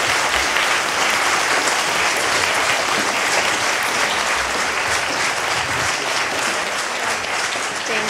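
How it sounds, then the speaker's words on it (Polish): Steady applause from a charity concert audience fills the whole stretch, dense and even from start to finish with no voices over it. "Brawa się przydadzą przez krótką chwilkę."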